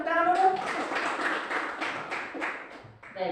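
Classroom students in an Indonesian lesson give a short round of clapping for a classmate, a light scattered patter of hands under a teacher's voice that speaks at the start and end.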